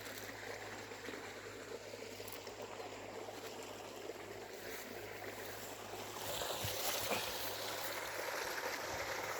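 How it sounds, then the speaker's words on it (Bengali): Water flowing steadily into flooded, ripe rice paddies ahead of harvest, a continuous broadband rush that grows slightly louder and fuller toward the end, with no voices. "এখনও কত জল নেমে আসছে।"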